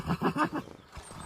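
A horse neighs in a stable: a rising, harmonic whinny in several pulsing bursts over the first half-second, close and fairly loud, then fading into a low, quiet background.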